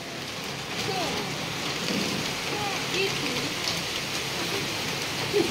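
Heavy rain pours down steadily and evenly, a dense hiss of drops drumming on surfaces with no break, loud and close throughout.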